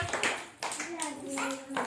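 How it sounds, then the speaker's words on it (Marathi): Clapping for a small child drawing rangoli numbers, a few quick claps mixed with a voice and adult speech nearby. "हा, छान, टाळ्या वाजवा."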